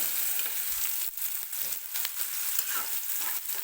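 Onion and green chili frying in a pan for cabbage bhaji, a steady close sizzle with scattered crackles and a few brief stirring scrapes, no voices.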